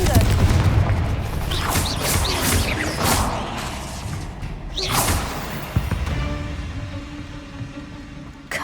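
Blasting Confringo spell explosions in Hogwarts Legacy, several loud booming bursts and crackling impacts spread across the stretch, with a spoken voice mixed in among the blasts.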